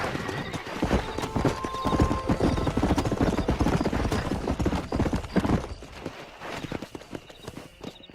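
A horse gallops in Red Dead Redemption with dense, rapid hoofbeats up close and a whinny, and the pace eases off toward the end.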